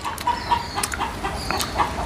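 Hens at a village home cluck in short, close, irregular bursts, several birds overlapping in quick clucks and squawks against a quiet yard.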